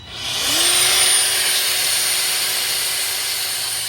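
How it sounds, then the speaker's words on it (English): A Snap-on belt grinder grinds metal during a GLI stage two install, a loud, steady high-pitched whine that ramps up in the first half second and holds continuously to the end with no talk. "this snap-on belt grinder is amazing"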